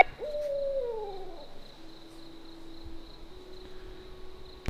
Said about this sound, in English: Dude, something does not sound right with that owl.